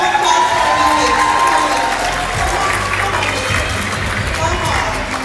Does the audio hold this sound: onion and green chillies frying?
no